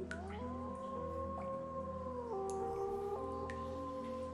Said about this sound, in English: Give me wolf howls.